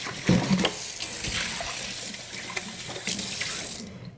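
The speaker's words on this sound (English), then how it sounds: "So anyways, I like to rinse the blender." A running kitchen tap pours water as a blender is rinsed under it, a close, steady splashing stream with a few louder clunks of the jar against the sink near the start.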